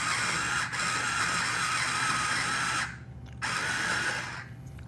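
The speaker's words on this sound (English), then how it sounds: "Excuse me while I sharpen my writing utensil." A pencil being ground in a sharpener, a steady grinding whir that runs on for nearly three seconds, stops briefly, then starts again and fades.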